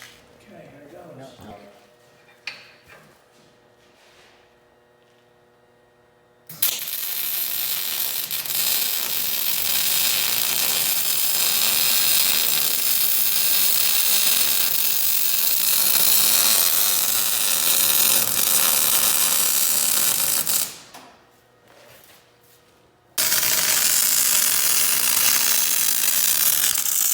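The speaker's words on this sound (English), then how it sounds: "Putting a lot of welds on this track bar bracket on the frame, making this thing freaking bulletproof." A welder lays long beads on a track bar bracket tacked to a vehicle frame, producing a loud, steady, hissing crackle in two extended runs with a short pause between, close by after quieter workshop sounds.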